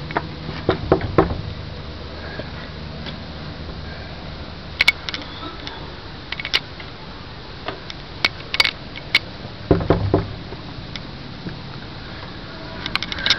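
Knocks on a door come in a few sharp clusters spread across the stretch, separated by quiet pauses, with light rattles and clicks in between.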